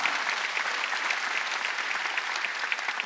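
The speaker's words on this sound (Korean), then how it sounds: "박수 치라, 박수 치라." A church congregation at a Wednesday worship service claps in steady, dense applause throughout, fairly soft and even in level, with no voices standing out.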